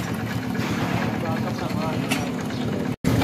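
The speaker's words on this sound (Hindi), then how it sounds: "तो ये पुराना मॉडल बाइक है, इसको हमने स्टार्ट कर दिया" An old-model CD70 motorcycle engine runs at a steady idle, chugging in a low, even rhythm, with a brief dropout near the end.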